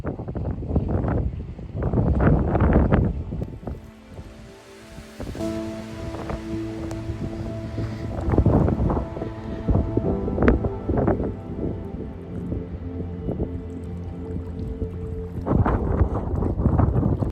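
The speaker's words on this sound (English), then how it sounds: "I'm trying to keep low down to keep out the wind here for the camera" Wind gusts across the bank of a Scottish reservoir during a thunderstorm, buffeting the microphone in loud, uneven rushes that come and go over a steady low background.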